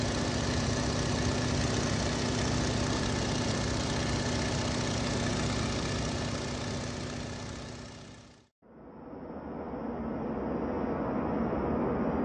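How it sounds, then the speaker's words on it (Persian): A twin-engine airplane's constant, full engine roar holds steady for several seconds, breaks off abruptly, then comes back with a thinner, buzzing tone. "هواپیمای دو موتوره."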